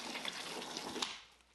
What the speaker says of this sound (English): We're going to fill that up.